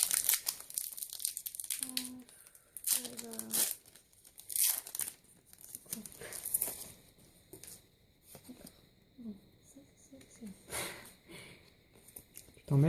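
Foil Pokémon booster packs from the Vigueur Spectrale set are torn open and crinkled by hand, close and crisp, in short bursts of ripping and rustling among pauses, while people talk intermittently.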